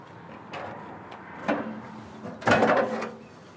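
Solid entry steps on a 2020 Keystone Hideout 320MBD travel trailer fold up with a few scattered metallic clunks and rattles, ending in a louder close-up clatter as they latch into the doorway.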